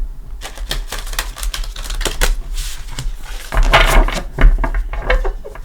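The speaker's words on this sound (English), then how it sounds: "let's give it a shuffle" A tarot card deck is shuffled up close in quick, crisp bursts of clicking and flicking cards, rapid and uneven, with a busier, louder stretch partway through and no talking.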